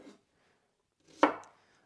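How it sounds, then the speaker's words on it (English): A knife chops shallots on a cutting board for curry paste: one crisp, close chop after a faint earlier knock, then quiet. "I'm just going to roughly chop. Well, first take the ends off, and then cut in half or in quarters these shallots"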